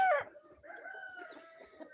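Backyard hens make a sharp call at the start, then a run of softer clucks and squawks, fairly close, with no talk over them.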